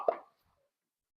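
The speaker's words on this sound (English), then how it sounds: "the ball joint should pop out" A lower ball joint on a Mazda Miata suspension pops loose under a press tool, one short, close metallic pop that fades quickly into silence.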